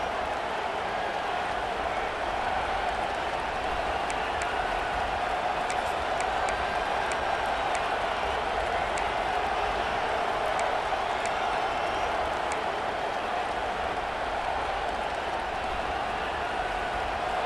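Dense stadium crowd roar in EA Sports College Football 26, a steady loud wash of cheering and noise that stays even for the whole stretch, with faint whistles or shouts poking through.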